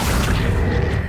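A spell-casting effect for the Accio summoning charm in the video game Hogwarts Legacy: a loud, sustained magical whoosh with a deep rumbling boom underneath, lasting about a second.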